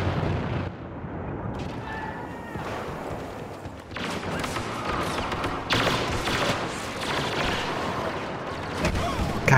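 Rocket blasts in a 6vs6 multiplayer shooter match on a cargo map, a dense stretch of repeated loud explosions and gunfire-like bursts piling up over roughly ten seconds, with faint voices underneath.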